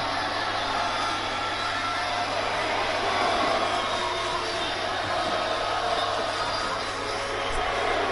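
A wrestling crowd roars after a superplex to the floor at a UK wrestling event, a dense steady wash of cheering from an arena audience that holds at an even loudness throughout.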